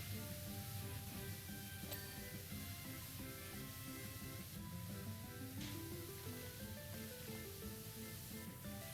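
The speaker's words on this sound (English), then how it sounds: "We're gonna spray this sucker down." A pressure washer in the PowerWash Simulator video game hisses in a steady, continuous spray. Music plays underneath, and there is no talk.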